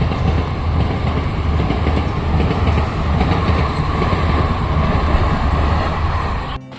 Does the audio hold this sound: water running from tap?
no